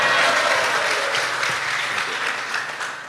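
Audience applause at an Indonesian religious talk, a dense, steady wash of clapping that fills the whole stretch, loud at first and easing slightly toward the end, with no voices over it.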